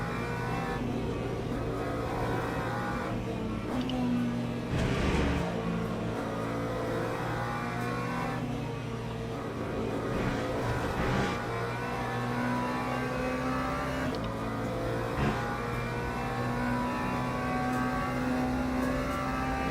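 An LMP prototype race car in the sim racing game Le Mans Ultimate drones along at a sustained engine pitch, with shifts, revving surges and other cars passing by, loud and steady with no talking.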